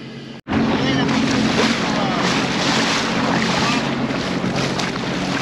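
Choppy water slaps against a moving boat near a sandbar, a loud continuous wash mixed with heavy wind buffeting the microphone after a brief dropout at the start.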